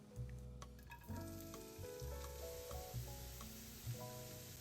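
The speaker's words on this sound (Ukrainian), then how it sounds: "Тепер обсмажимо цибулю до прозорості." Steady sizzling of onion frying in a hot pan, with occasional stirring scrapes and clinks; close and continuous, no voices.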